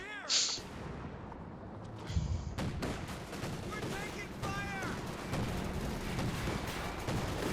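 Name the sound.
Ostwind flak gun firing in Company of Heroes 2 video game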